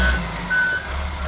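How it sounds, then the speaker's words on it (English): A 2005 Volvo L60E wheel loader's backup alarm beeps in two clear tones over the low rumble of the idling machine, fairly close and steady. "Has the backup alarm."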